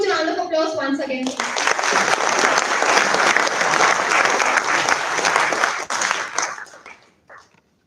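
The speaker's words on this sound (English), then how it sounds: "Let's have a huge round of applause once again." A conference audience at an HR conclave in Bhubaneswar breaks into loud, sustained applause. It begins just after a voice, holds steady for several seconds, then thins out and fades away.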